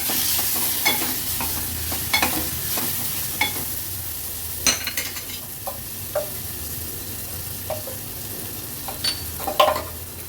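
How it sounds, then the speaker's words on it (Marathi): A spice tempering sizzling in a pan as a small tomato is added, steady frying hiss punctuated by scattered clinks and scrapes of stirring, close and without talk. "फोडणी व्यवस्थित मिक्स करून घेतली की अगदी छोटासा टोमॅटो घालूया."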